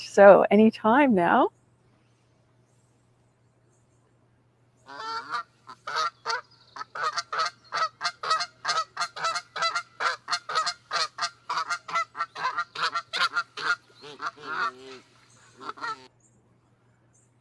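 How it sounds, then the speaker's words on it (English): A Canada goose honks in a long, rapid run of sharp, nasal calls at a steady rhythm, following a short spoken remark. "to be specific, the Canada goose"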